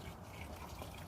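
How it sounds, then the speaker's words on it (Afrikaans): Water pours steadily onto the soil around a newly planted cape gooseberry plant, a brief, continuous close gush and splash with no talk. "Jy gee dit 'n goeie hoeveelheid water"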